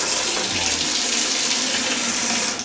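Strong, steady water pours from a shower in a beach resort restroom, a dense continuous hiss that fills the whole stretch at close range with no voices.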